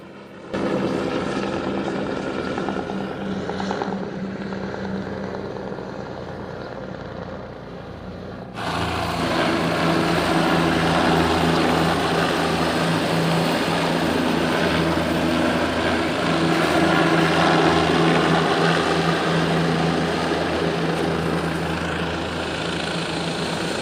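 A helicopter runs steadily at a mountain helipad on the Kedarnath pilgrimage route, its rotor and engine roar growing abruptly louder partway through and then holding a loud, continuous drone.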